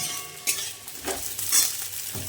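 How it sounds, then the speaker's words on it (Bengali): Pabda fish and onion with garlic fry in pans on a gas stove, a steady close sizzle broken by several louder stirring scrapes, with no talking. "একদিকে হচ্ছে এই যে কলমির শাকের জন্য পেঁয়াজ রসুন ভাজা আর একদিকে এই যে পাবদা মাছটা ভাজতে বসিয়ে দিয়েছি"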